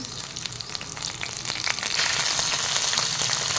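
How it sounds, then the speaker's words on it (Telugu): Green chillies, dried red chillies and curry leaves sizzle in hot oil for a bitter gourd curry, a close, steady crackling fry that grows louder partway through with stirring clicks. "ఇలా కొంచెం ఫ్రై చేసుకోవాలి"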